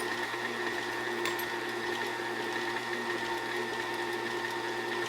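An electric mixer creams butter for potato chip cookies, giving a steady whirring motor hum with a high mechanical whine that runs unbroken and fairly close throughout.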